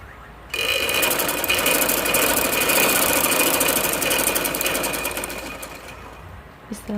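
A sewing machine runs steadily, stitching along a fabric loop cord (dori), a loud continuous whirring drone that starts after a brief pause and runs almost to the end before stopping.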